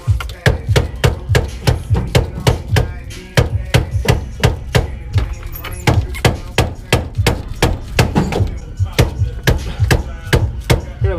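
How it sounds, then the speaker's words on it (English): A dead blow hammer strikes over and over in a fast, steady rhythm, each blow a sharp close thud with barely a pause between hits. "Apparently my dead blow hammer is all broken."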